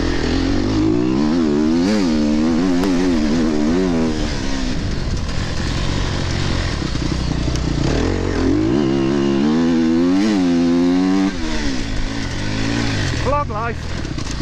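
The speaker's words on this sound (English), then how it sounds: "This bike corners on this grass so well." An enduro motorcycle rides a grassy course at a British sprint enduro event, its engine loud and close throughout, rising and falling as it revs through corners, with a rider's voice heard over it.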